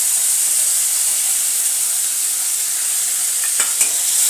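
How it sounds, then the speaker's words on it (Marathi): Beans, corn and carrots sauté in a pan under a loud, steady hissing sizzle, with a few spatula stirring clicks near the end. "चांगले परतून मिनिटभर याला शिजून देऊया"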